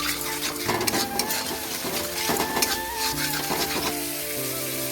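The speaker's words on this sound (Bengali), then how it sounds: "লবণ আর হলুদ দিয়ে দিয়েছি, ভালো করে এটাকে কষিয়ে নিতে হবে।" Shrimp sautéed with salt and turmeric sizzle loudly and steadily in hot oil while a spatula stirs and scrapes, close up and without speech.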